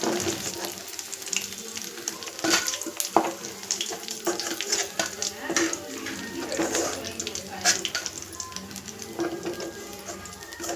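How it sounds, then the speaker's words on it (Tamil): Chicken 65 deep frying in hot oil for a biriyani meal, with a loud, busy crackling sizzle and occasional stirring clinks, while a person talks over it. "இப்போது சிக்கன் 65 எல்லாம் பொரிஞ்சு வந்தாச்சு."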